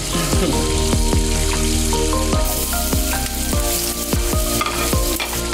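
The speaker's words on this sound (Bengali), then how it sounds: "রান্নাটা আমি সর্ষের তেলে করছি।" Food sizzles steadily in hot mustard oil with a little sugar added, loud and close, with sharp spatula scrapes and clicks against the pan repeating throughout.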